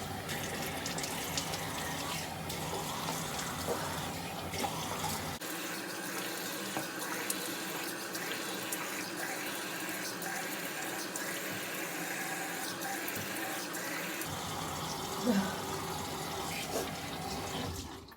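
Cool tap water runs steadily into a bathroom sink during face washing, a continuous broadband splash for the whole stretch with shifting gurgles and a brief clink near the end, no talking.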